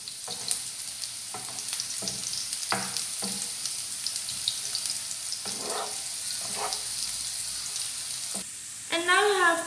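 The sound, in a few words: sautéing chopped ginger and garlic on high flame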